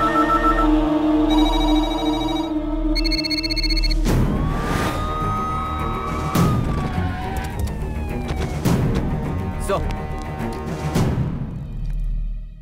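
A telephone rings with a repeating electronic tone for a few seconds, then dramatic music with rising tones takes over.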